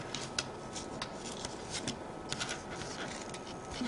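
Red protective film is peeled off an embossed metal card in a steady, faint crackling rustle, close by and continuous, with no voices.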